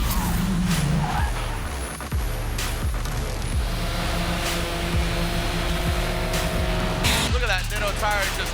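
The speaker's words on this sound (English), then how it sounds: "Look at that Nitto tire just rip." Formula Drift competition car on Nitto tires at Seattle, engine roaring loudly and continuously with tire screech throughout, a rising engine sweep near the end.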